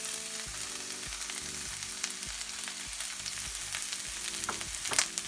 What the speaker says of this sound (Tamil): கட் பண்ணி வச்ச வெங்காயத்தையும் சேர்த்திடுங்க.